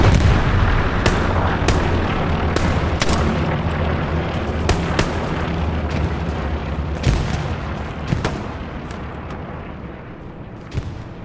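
Gunfire and explosions pound at a tank in the WW2 shooter Hell Let Loose, a dense, steady roar of booms and sharp cracks with periodic louder blasts throughout.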